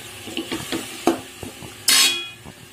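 Semolina and milk powder being mixed in a bowl for rava gulkand modak, heard as scattered close scrapes and taps of a utensil against the bowl, with one louder, brief scraping burst near the end.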